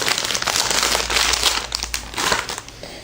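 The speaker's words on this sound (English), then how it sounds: "Sorry for the crinkling." Plastic packaging being handled, with dense crinkling and crushing rustles that rise and fall close up in irregular bursts, no voices present.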